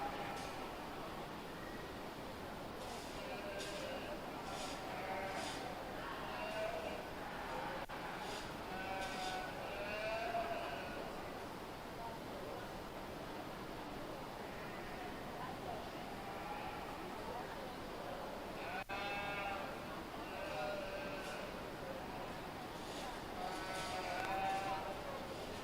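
Yearling ewes bleat in a livestock barn at a county 4-H and FFA fair breeding show, their repeated calls rising over a constant crowd murmur and loudspeaker talk.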